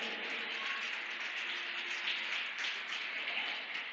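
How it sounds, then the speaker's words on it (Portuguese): A church congregation applauding, a dense, steady wash of many hands clapping, faint and distant, with no voices standing out. "Pode aplaudir."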